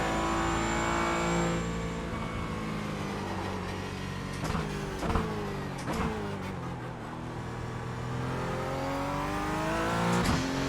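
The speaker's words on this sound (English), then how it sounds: "God, it's fun accelerating out of a corner with this thing" A Porsche 718 Cayman GT4 in the iRacing video game accelerates hard, its engine note climbing steadily through the gears with brief shift breaks, loud and continuous throughout.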